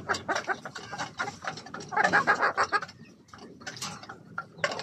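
Rooster clucking nearby in a rhythmic, uneven series of short bursts, some louder and fuller, over a background of faint farmyard noise.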